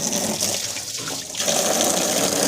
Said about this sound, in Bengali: জলটা ভরে নিক